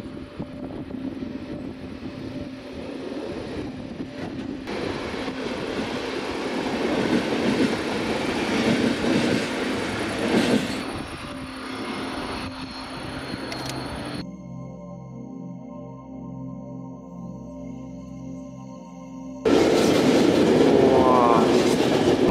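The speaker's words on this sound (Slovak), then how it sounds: "OK, paráda, vlaky prešli." Trains roll past at a railway station with a steady, loud rumble and rattle that fades to a quieter, tonal hum from a standing train, then a louder burst of noise returns near the end.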